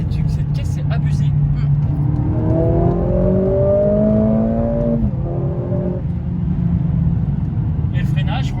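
A Mercedes-AMG CLA45S hums along at steady cruising speed, a low continuous engine drone with a rising, shifting tone mid-way, heard from inside the cabin.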